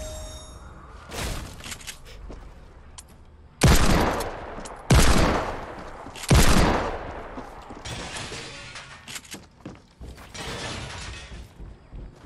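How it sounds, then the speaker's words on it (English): Video game shotgun blasts ring out in three loud, close booming shots a second or so apart, with mechanical pumping and clicking between them and quieter bursts of gunfire before and after. "That's a shotgun."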